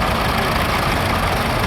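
A historic agricultural tractor engine runs on parade at a steam rally, a loud, steady, low rumbling drone close by that stays constant throughout without pause.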